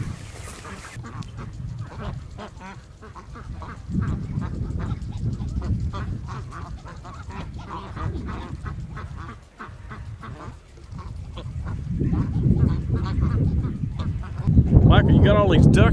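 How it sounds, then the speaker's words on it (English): A large flock of farm ducks quacks and honks continuously at close range, the clamor rising and thickening toward the end, with voices talking faintly underneath. "Now I see you've got a whole bunch of ducks over there."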